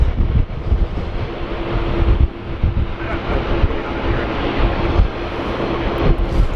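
Airplane at Sydney Airport on a windy day near runway 25, its engine roar blending into heavy wind buffeting the microphone throughout, with faint voices underneath.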